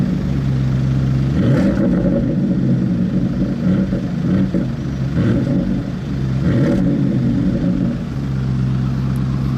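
A Porsche Cayenne Turbo GT with central exhaust and carbon trim revs its engine nearby, a loud, steady throaty drone that rises and falls in several swells across the clip, with no voices.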